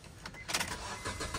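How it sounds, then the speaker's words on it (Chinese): A Honda Stepwgn mini camper van's engine cranks and catches, with bursts of starter noise settling into a steady low running rumble, faint and alone. "佢依家揦著個引擎先。"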